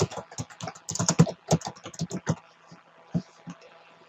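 Rapid typing on a computer keyboard, close and distinct, dense bursts of key clicks at first that thin out into scattered taps.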